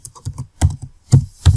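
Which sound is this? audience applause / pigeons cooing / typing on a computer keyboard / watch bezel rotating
typing on a computer keyboard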